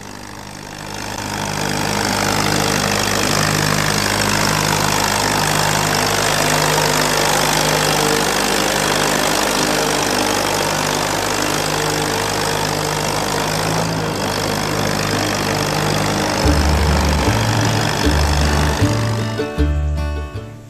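Small International Harvester tractor engine pulling steadily during a drawbar horsepower test, a loud, continuous chugging drone that holds near and constant, then shifts to a rougher, pulsing rhythm near the end.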